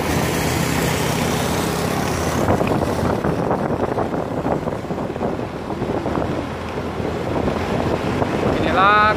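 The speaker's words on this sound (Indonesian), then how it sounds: "anginnya cukup kencang ya." Strong wind buffets a microphone on a country road between Pakisan and Tlogosari in Bondowoso, a steady broadband roar that continues for the whole stretch with faint voices now and then.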